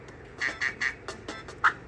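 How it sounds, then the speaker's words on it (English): A duck quacks in a short series of four clear, evenly spaced calls followed by a louder final quack, close and alone with no voices over it. "it's a duck"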